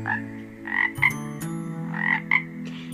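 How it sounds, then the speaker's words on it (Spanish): A small green-or-brown toad croaks in a played recording, a few rhythmic trilling calls repeating in bursts over a steady low hum, loud and close with no voices. "Es el sapo."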